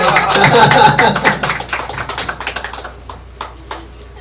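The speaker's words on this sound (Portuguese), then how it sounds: "Aplausos para o Bruno." An audience at a talk on shamanism and ufology applauds a ufologist named Bruno, with dense clapping at first that thins into scattered, separate claps and fades out.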